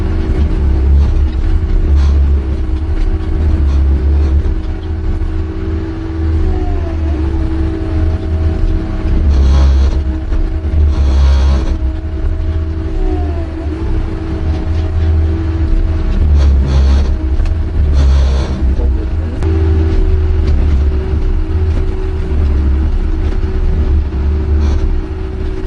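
Jackson 6700 track tamping machine on a rail line moving forward to the next tie, a loud steady diesel engine rumble with hydraulic whine that shifts in pitch now and then, continuous and close.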